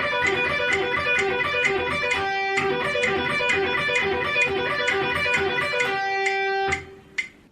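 Two-string sweep-picked guitar arpeggio exercise played at a moderate tempo, with evenly repeating plucked notes in a steady pattern that end on a ringing note and a final short pluck, alone with no speech.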